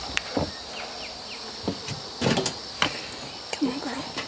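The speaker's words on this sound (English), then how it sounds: "Bees love this mat." Bees buzz around a mat by an outdoor pool, with faint drifting hums and brief passes up close, mixed with scattered knocks and a short vocal sound.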